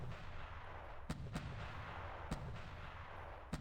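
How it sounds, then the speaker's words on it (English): Secondary guns firing incendiary shells in the World of Warships naval game, four sharp distant booms spaced irregularly over a constant low rumbling background. "So the secondary guns are firing some form of incendiary shell."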